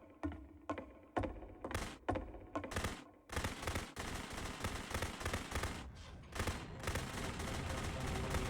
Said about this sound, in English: you can click to fire the gun